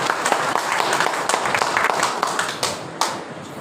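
An audience at a commemorative gathering in Tanuku applauding, with a fairly light, scattered patter of hand claps and a few sharper individual claps at moderate distance.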